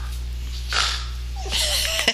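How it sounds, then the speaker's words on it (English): A dog snorts and sniffs in short bursts close by, with a steady low hum in the background. "It's a dog snorting."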